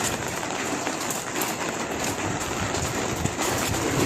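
Heavy rain falling steadily outdoors, a dense continuous hiss of drops at constant loudness with no gaps and no talk.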